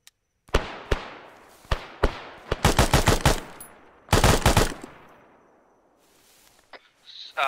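Airsoft guns firing outdoors during a game: sharp single cracks, then rapid bursts of shots in quick strings, a pause, another burst, and scattered fainter pops, close and loud with gaps of quiet between.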